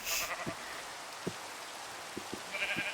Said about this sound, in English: So I am just going to put the sheep in the house while I build them a pen.